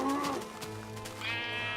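A Minecraft sheep bleats in a wavering, nasal call, moderately loud over a continuous low game background, with a second higher tone rising near the end.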